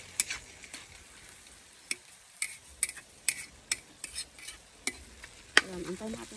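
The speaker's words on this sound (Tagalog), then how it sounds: "haluin na natin" Meat fries in a pan beneath a low sizzle while a utensil stirs it in a run of crisp, irregular scrapes and taps on the metal, close and fairly quiet.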